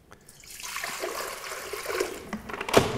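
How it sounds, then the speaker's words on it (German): Water trickles and splashes into a mixing bowl, mixed with poolish for fougasse dough, a soft pouring stream that builds gradually, with a brief louder splash near the end. "Zuerst wieder Wasser und Polish in die Schüssel geben."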